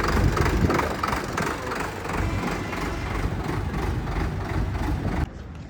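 An Indofarm 3060 tractor drives away with a loud, continuous low diesel rumble and rattle, holding steady before cutting off abruptly near the end.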